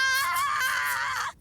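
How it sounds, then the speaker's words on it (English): A video game character in Date Everything lets out a single high, excited scream lasting just over a second before cutting off. "I don't want to hear her scream with excitement anymore"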